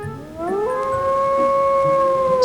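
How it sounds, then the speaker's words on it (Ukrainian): A single long, drawn-out howl rising then holding a steady mournful tone for a couple of seconds, clear and fairly close, with no voices. "Чий голос ви чули? Це вовк."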